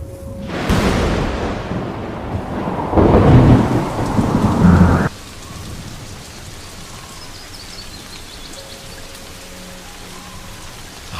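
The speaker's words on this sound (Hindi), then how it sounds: "सूखी घास पर पानी की बूंदें पड़नी शुरू हो गई हैं।" Thunder and rain over dry grass in the Serengeti: a loud close thunderclap and rolling rumble with heavy pattering, then the storm drops to a quieter steady rain.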